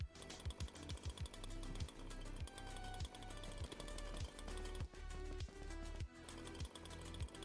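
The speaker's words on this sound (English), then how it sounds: "This is our makeshift chainsaw that we have on." A makeshift chainsaw weapon running in the Dead Frontier video game, heard as a fast, rhythmic mechanical chugging and rattling that repeats steadily, faint and mixed with a tonal game soundtrack.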